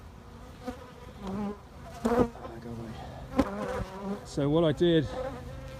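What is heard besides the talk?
swarm of bees fanning on a hive box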